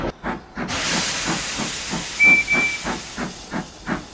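A steam engine in a Roblox Thomas remake hisses steadily and loudly while puffing in an even rhythm of regular chuffs, with a brief high whistle-like tone partway through.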